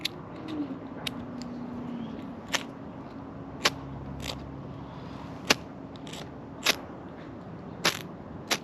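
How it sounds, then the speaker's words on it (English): A fire beaner, a carabiner with a built-in sparker, gives a series of sharp, dry scraping strikes at irregular intervals, each crisp and close against a quiet background. "It's got this nice sparking feature."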